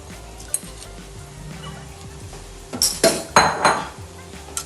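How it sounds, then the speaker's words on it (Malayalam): A metal spoon stirs half a kilo of rice in an aluminium pressure cooker for prawn biryani. Scraping clinks come close and loud, building into a cluster of busy stirring strokes in the second half. "നന്നായി ഇതൊന്ന് ഇളക്കാം."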